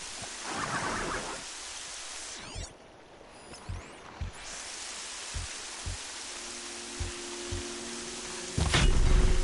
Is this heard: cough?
no